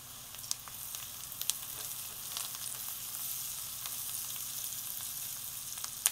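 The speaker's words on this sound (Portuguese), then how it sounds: "Vou deixar a cebola dourar" Onion fries in a pan with salt, black pepper, thyme and garlic, giving a steady, fairly soft sizzle with a few faint stirring clicks.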